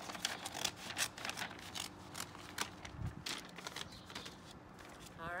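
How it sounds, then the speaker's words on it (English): Scissors snipping through the bottom of a paper grocery bag, a series of quiet crisp cuts and paper crackles at close range with faint rustling between them. "So you'll take the bag and you'll just cut off at the bottom."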